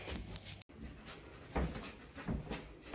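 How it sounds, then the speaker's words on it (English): Dogs at a house door pant softly and give faint whimpers in a quiet room, with small scuffling and knocking sounds near the door and no talking. "Hayes, will you let the dogs in?"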